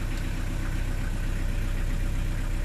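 A Nanni diesel inboard engine idles steadily in a Sheerline 740 boat. It makes a close, even low rumble with a constant rhythmic throb, and no voices are heard.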